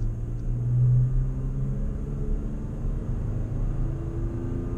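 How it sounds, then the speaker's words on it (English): A 2016 Toyota Tacoma towing a trailer accelerates hard from a stop, heard as a steady, heavy low engine rumble that swells briefly, then holds at a constant drone. "I don't wanna overdo it, but I'm accelerating a little hard just to give you an idea."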